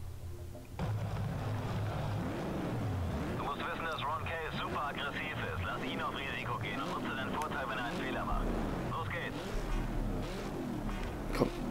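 A newer Ford Mustang race car in Need for Speed: Shift: a steady engine drone with rising revs runs throughout beneath someone talking almost continuously.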